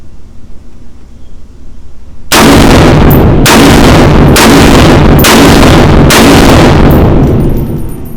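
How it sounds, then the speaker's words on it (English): A POF-USA Rogue .308 pistol with a 12.5-inch barrel fires off the rest of its magazine. After a quiet start, loud, close shots come in rapid bursts that blend together and keep going almost to the end. "Let's just go ahead and finish off this mag."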